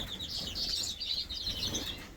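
Two pet birds chirp steadily in a home birdroom before breeding season, with bright repeated tweets and soft wing flutters close by, continuous throughout without any talking.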